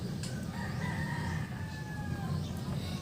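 A rooster crows in the distance over a low background hum, with faint clucking from chickens nearby.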